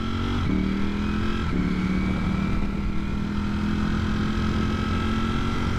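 A Ducati motorcycle engine drones loudly and steadily up close, its pitch climbing slightly as it accelerates to pass a car amid rushing wind.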